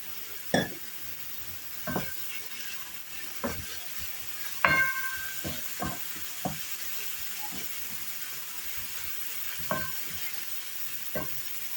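Minced meat frying in oil in a pan for leek börek, giving a steady low sizzle broken by about a dozen sharp scraping stirs and clinks spread across the stretch, with no talking.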